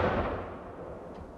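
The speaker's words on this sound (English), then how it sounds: "A gun salute at Hillsborough Castle marked the King's proclamation." A ceremonial gun salute booms at Hillsborough Castle in County Down for the King's proclamation, one distant report with a long rumbling tail that fades away.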